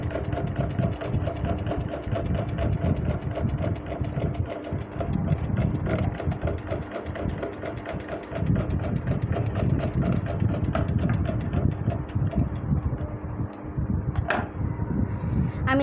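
A sewing machine runs steadily for the whole stretch, stitching binding strips onto the front and back neck openings of a kameez, its close rapid needle rattle continuous and alone.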